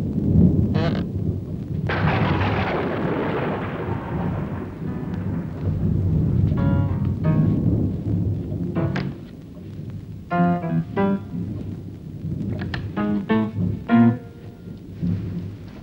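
Heavy thunderstorm with long rolling rumbles of thunder over steady rain, loud and close, and a few sharp cracks and knocks toward the end.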